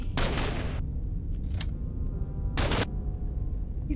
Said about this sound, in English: no, stop shooting me!